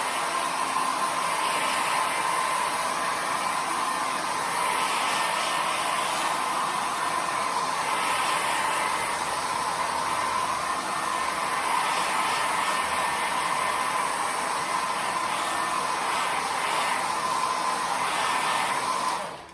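A hair dryer blows continuously and loudly up close to dry a layer of acrylic paint, its steady airy roar swelling slightly in places, with no talking.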